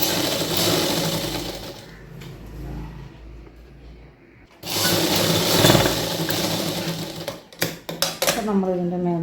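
A sewing machine stitches the top edge of an umbrella pant a quarter inch in. It runs in a fast steady whir under a voice, pauses briefly, then starts again at full speed.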